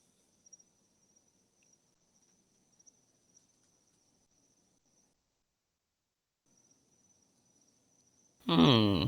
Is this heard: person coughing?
no